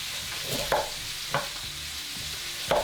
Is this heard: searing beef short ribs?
yes